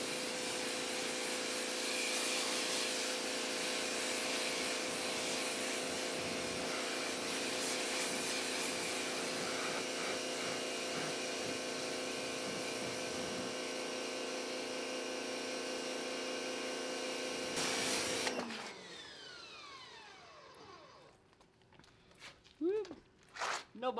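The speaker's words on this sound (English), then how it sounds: "I just did a high pressure rinse on the front of this car" High-pressure water spray rinsing CarPro Bug-Out bug remover off the front of a Tesla Model 3, a steady loud hiss of water jet that runs continuously for about eighteen seconds before cutting off abruptly, leaving quieter drips and handling noises.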